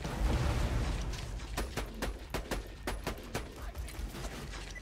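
Borderlands 2 combat gameplay with a grenade blast followed by a rapid burst of sharp gunshots, loud and close, crackling in quick succession over a dense noisy backdrop of game effects.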